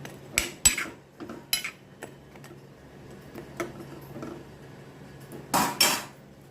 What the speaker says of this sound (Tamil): நல்லா கிண்டி விட்டுடலாம்